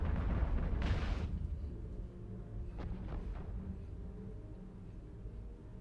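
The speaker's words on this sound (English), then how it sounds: "These are rats shooting at me." In EVE Online, NPC rats fire on the player's ship: a muffled burst lands early over a low, rumbling bed, followed by a few softer impacts, all fairly quiet.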